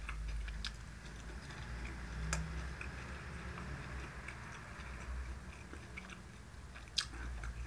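Someone eats a pork-bowl yakisoba up close, with soft, faint chewing and occasional sharp clicks and crunches, including a louder click near the end, over a quiet low hum.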